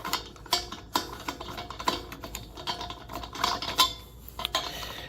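A propane tank is threaded by hand onto a Mr. Heater propane heater, giving a close run of quiet, irregular clicks and small metal ticks as it turns.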